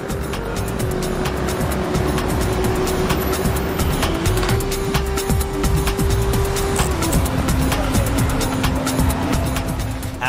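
A taxi drives along a road, its engine and tire noise forming a steady, loud rumble throughout with a sustained tonal whine that shifts pitch partway through.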